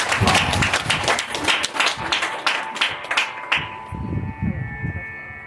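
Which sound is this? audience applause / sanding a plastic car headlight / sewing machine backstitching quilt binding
audience applause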